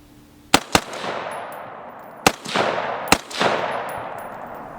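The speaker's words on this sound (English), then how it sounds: "I'm gonna just shoot a couple rounds in semi-automatic" A Fostech Stryker rifle fires a few semi-automatic rounds outdoors, loud sharp cracks in small uneven clusters, each with a long echoing tail and no talk.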